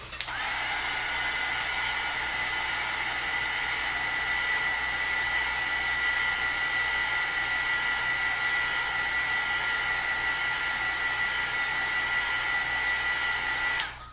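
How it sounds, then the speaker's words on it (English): Heat gun drying a card background for a Halloween stencil card, running as a steady, loud whirring blast that holds for about fourteen seconds, then cuts off, with no talking over it. "I'm just going to hit that real quick with a heat gun"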